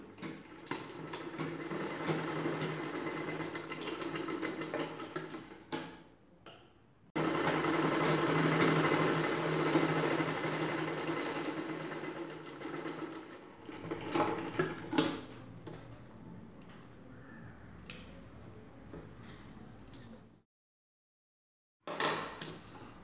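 A sewing machine stitches the edges of a cloth strip with a buckram piece on top, ready for a dress zip. It whirs in close bursts of running stitches, separated by short pauses and a few clicks, with no one talking.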